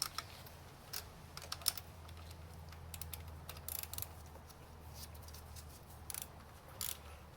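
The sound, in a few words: socket ratchet clicking on Pontiac Sunfire engine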